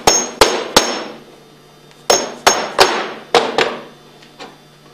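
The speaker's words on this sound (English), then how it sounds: "gradually work the inlet manifold off with a rubber hammer" Sharp rubber hammer taps in quick clusters of two or three on the inlet manifold of a Hypro 2535S piston pump, each striking metal and ringing briefly before the next blow.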